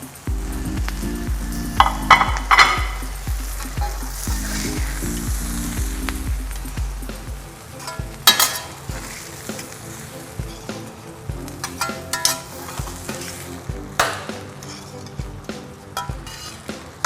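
Food sizzles and fries loudly on a teppanyaki grill, with clinks of utensils, then the hiss thins out to quieter crackling and scattered clatters.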